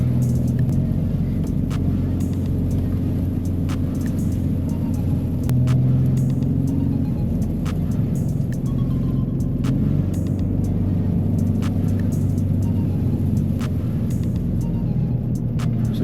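A Ford Raptor truck in four-wheel drive rolls along a snowy, icy road with a steady low engine rumble and tire noise, close and continuous, with faint ticks of snow or ice against the body.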